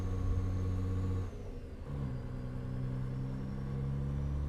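A Peterbilt 359 truck engine in American Truck Simulator hums steadily with a mid-pitched drone, briefly dipping as gears change before settling back into a constant driving rumble.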